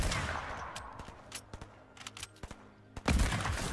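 Gunfire from the Fortnite video game, a burst of sharp close shots followed by a scattered run of quieter distant cracks and a final loud volley.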